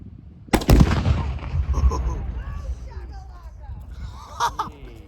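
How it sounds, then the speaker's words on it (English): Several sharp gunshots crack out nearby in an outdoor yard. A loud burst is followed by a few scattered shots that fade in and out, with people talking and calling out over them. "What are you shooting at?"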